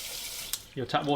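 Tap water runs from a kitchen faucet before being diverted to an ionizer unit, a steady hiss of flow with a brief splash, followed by a short stretch of talking over the running water.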